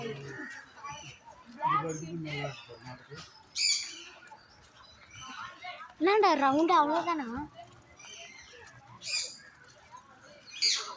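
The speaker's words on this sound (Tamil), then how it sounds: "இன்னும் இந்த பறவையை காணும். எங்கேயும் கத்துற சவுண்டு கேட்குது, ஆனால் காணும்." Bird calls chirp and squawk in short bursts, with a louder warbling call midway, while people talk intermittently.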